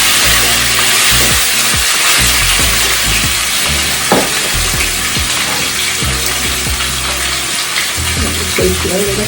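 A round cut of pork, seasoning scraped off, sears loudly in a pot on the stove, a steady broadband sizzle with scattered pops and small clatters running throughout.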